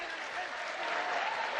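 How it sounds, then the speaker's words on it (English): An arena crowd applauds steadily through the final round of a professional boxing bout, a dense, continuous clatter of clapping that holds at an even level from start to finish. "the crowd there appreciating the two fighters who are into the final round of this bout"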